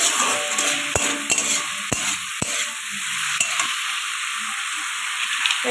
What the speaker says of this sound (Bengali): হলুদ গুঁড়ো লঙ্কা গুঁড়ো জিরে গুঁড়ো কষিয়ে নেবো আমি